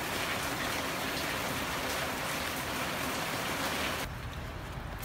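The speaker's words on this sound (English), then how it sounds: "Instead, we have rain." Steady rain falls in a garden on a cold day, a dense close patter on surfaces that continues evenly, then drops slightly quieter in the last second.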